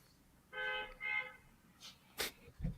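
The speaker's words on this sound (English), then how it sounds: "You could literally hear the cars honking in your background." Car horns honk twice in quick succession in the distance behind a quiet room, followed by a few faint knocks and thumps.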